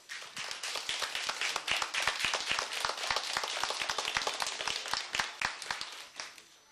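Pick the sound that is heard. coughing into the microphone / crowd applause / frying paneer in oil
crowd applause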